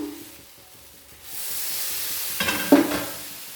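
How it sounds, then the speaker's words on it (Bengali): Patisapta batter made with atta, wheat flour, sizzling in a lightly oiled pan, a soft hiss swelling after a quiet start and holding steady, with a brief clatter of a spoon or pan near the end. "আবারও তেল দিয়ে দিলাম অল্প করে তেল চারদিকে ছড়িয়ে দেব দু চামচ বেটার দিয়ে দিলাম"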